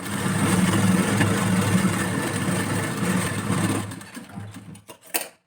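A sewing machine stitches a strip onto the right side of the main fabric of a blouse, whirring steadily and close for several seconds before slowing and stopping with a few final clicks.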